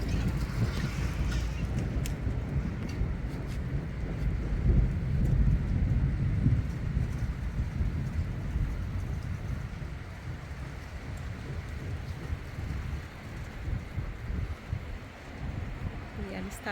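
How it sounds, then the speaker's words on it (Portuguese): Steady rain arriving over Araxá, Minas Gerais, after a long hot dry spell, a dense broadband hiss of drops on surfaces that swells and fades, with low rumbling that may be distant thunder throughout. "Agora a chuva já está chegando."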